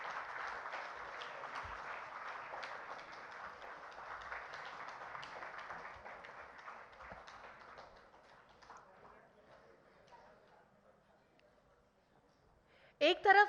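An audience at the Hindustan Shikhar Samagam 2016 event applauds steadily for several seconds, then the clapping fades away to near quiet before a brief louder sound at the end.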